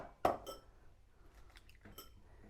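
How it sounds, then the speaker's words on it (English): An egg is cracked into a small bowl for a healthy fish pie: one sharp, close crack and clink near the start, followed by a few softer taps and clinks of the bowl in a quiet kitchen. "we're going to just break our egg here"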